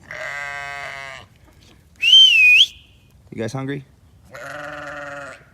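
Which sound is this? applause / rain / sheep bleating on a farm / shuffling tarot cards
sheep bleating on a farm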